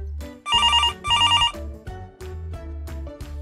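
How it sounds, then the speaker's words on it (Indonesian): Two bursts of a trilling telephone bell ring out loudly, followed by lower musical thumps and tones in a steady rhythm. "sebuah panggilan telepon yang berbunyi"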